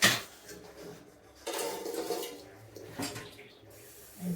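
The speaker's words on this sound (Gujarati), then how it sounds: "રાત્રે વાસણ અને કિચન એ સાફ કરીને રાખવાનું" Dishes being washed in a home kitchen at night, with clinking pots, pans and cutlery, scrubbing and running water, close and intermittent.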